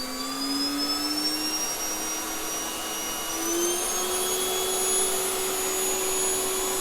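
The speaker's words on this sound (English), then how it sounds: "Now we're up to somewhere around over 400 watt, and the vacuum cleaner is buzzing off." A vacuum cleaner motor driven at around 400 watts through PWM control in a homemade inflatable car project whines loudly and steadily, its pitch creeping upward as power increases, with no talking.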